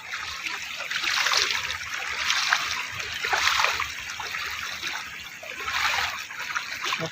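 Floodwater pours across a submerged road with a continuous rushing, splashing flow that swells and eases in repeated surges, close by and fairly loud.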